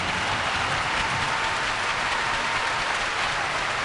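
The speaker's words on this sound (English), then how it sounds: "give these men and women in attendance and around the globe a round of applause" A hockey arena crowd at Game 6 of the 2017 WHL Championship applauds service members in attendance, producing a dense, even wash of clapping that holds at full strength throughout with no voices standing out.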